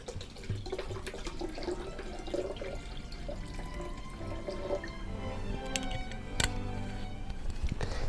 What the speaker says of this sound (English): So we'll add a cup of water.